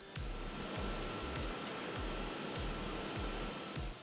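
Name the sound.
cooling fan of Orange Pi 6 Plus single-board computer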